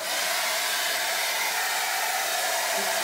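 A hair dryer runs inside a camper van on a snowy trip, a steady, loud, unbroken whooshing hum with no voices.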